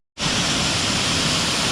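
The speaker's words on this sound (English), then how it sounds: "Got a little bit of a trickle of a waterfall" Waterfall spray crashing at the base of a creek at Salto de la India, San Vicente de Chucuri, Colombia: a loud, steady rushing roar that starts abruptly and continues unbroken.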